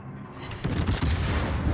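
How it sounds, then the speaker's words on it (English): Tank cannon fire in an online tank video game, fired as warning shots: a short burst that swells into a loud, booming blast and rumbling tail. "It's warning shots, I suppose."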